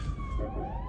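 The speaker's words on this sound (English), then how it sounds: "Sorry, I heard a police siren." A police siren wails outside, its rising and falling tone carrying indoors at moderate distance over a steady background rumble, with no one speaking.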